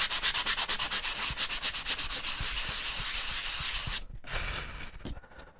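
Sandpaper rasps quickly and rhythmically over EVA foam patched with dried Rapid Fill filler, close and loud, the strokes slowing and breaking up into a few scattered scrapes near the end.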